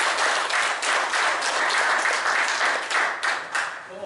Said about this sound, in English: Can I give this woman a round of applause?